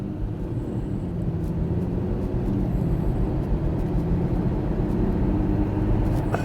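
An Audi A7 fitted with a new engine accelerates under turbo boost, a steady low engine drone heard from inside the car that builds slightly in loudness over several seconds, with no talking.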